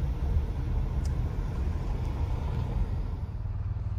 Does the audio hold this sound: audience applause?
no